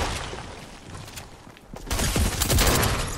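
Gunfire in the battle royale game Fortnite, a dense volley of shots building from a muffled rumble into louder, close rapid firing near the end.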